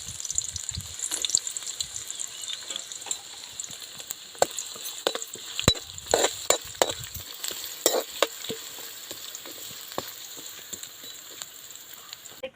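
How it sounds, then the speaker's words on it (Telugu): Chopped onions dropped into hot oil fry over a wood-fired stove, crackling and sizzling with scattered sharp pops and stirring scrapes, close and fairly loud, no talking. "చూడండి, ఆయిల్ వేడెక్కిందండి. నేనైతే ఇప్పుడు ఆనియన్స్ వేస్తున్నాను."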